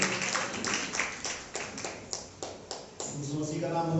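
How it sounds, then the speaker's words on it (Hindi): Church congregation at a Sunday morning service clapping in praise of Jesus, rhythmic sharp hand claps in a steady beat over a few seconds, close and reverberant, with a voice speaking beneath toward the end. "हम सब बैठ सकते हैं और फिर से यीशु मसीह की महिमा में तालियां देंगे"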